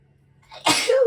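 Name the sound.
sneeze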